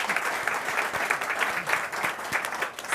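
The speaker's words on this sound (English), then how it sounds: "Please give him a round of applause for being able to join us." Audience applause fills the hall at a London climate action summit on food, a steady, dense patter of many hands clapping at moderate volume that holds evenly throughout.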